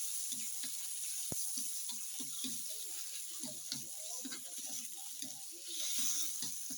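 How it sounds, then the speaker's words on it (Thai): Pork stir-fries in a pan under a faint sizzle, with repeated scraping and clinking of the spatula in an irregular rhythm and one sharp tap near the start. "เดี๋ยวรวนให้สุกสักหน่อยนะครับ"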